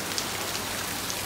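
Water falls from a fountain in Osh, Kyrgyzstan, a dense, even patter like steady rain that carries on unbroken at moderate loudness, with no talk.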